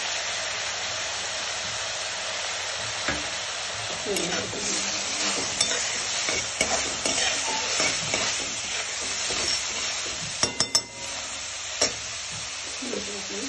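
Cabbage being stir-fried in a pan with soy sauce and tomato sauce for veg hakka noodles, giving a steady sizzle with scraping stirs and a few sharp utensil clinks against the pan.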